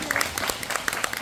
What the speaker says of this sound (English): So please give your big round of applause to Kate Lu.